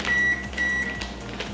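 Oven signalling it is ready while quiche is being made in a home kitchen: two sustained electronic beeps in succession, clear and close, followed by faint clatter.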